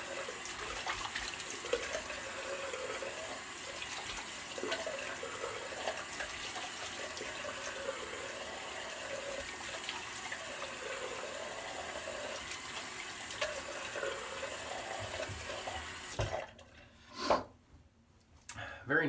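Tap water runs steadily into a sink as someone rinses off after a soapy wet shave, a continuous close splashing stream that stops near the end, leaving a couple of brief drips and splashes.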